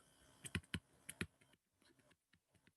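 Fingers type C code on a computer keyboard: a quick burst of sharp, close keystroke clicks, then softer, sparser taps trailing off, with no talking.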